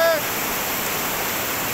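River water rushing steadily near the Assam–Bhutan border, a continuous broadband wash of flowing water heard close and alone after a brief tone at the start.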